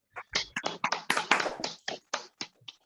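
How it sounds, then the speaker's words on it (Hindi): A single person claps hands up close during a public speaking practice session, giving about a dozen sharp, uneven claps in loose rhythm with short gaps, alone and without talk. "मैं क्लैपिंग बजा रहा हूँ"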